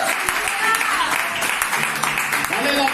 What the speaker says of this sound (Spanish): Alguien aplauda la presencia del Señor.